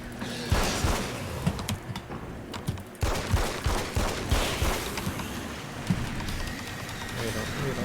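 Rapid video-game gunfire with repeated sharp shots and bursts, loud and continuous, under a voice talking over the action.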